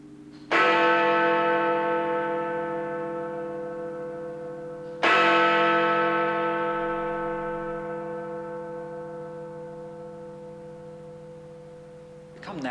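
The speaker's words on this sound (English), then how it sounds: "when you hear the bell striking every hour" Two deep, resonant strikes of the Big Ben clock tower bell at the Palace of Westminster, striking the hour about five seconds apart, each ringing out loud and rich with a long, slowly fading hum.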